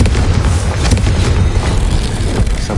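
A Confringo blasting spell from Hogwarts Legacy goes off as a sustained, loud booming explosion, deep rumble and crackling debris filling the whole moment without any voice over it.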